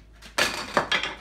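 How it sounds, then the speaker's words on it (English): A few quick clinks of a spoon stirring a hot mixture in a cup, three short bright knocks in a quiet room. "mix it around with a little spoon"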